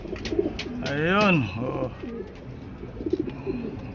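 Pigeons coo close by, with one long rising and falling call standing out among softer coos, while someone speaks briefly over them.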